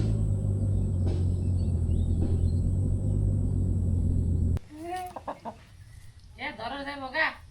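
Chickens clucking close up: after a low engine-like rumble stops, a run of several sharp, rising clucks follows in quick succession.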